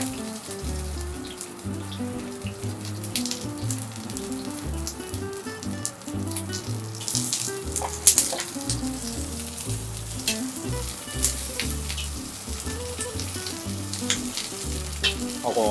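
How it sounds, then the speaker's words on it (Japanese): Summer vegetables pan-roasting in a pot of leftover oil for a coconut chicken curry, giving a steady, loud sizzle and crackle with occasional sharper spits and stirring, no voices. "でこのちょうどよく残った油でこの夏野菜です。"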